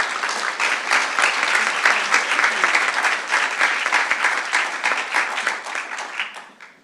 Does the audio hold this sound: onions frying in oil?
no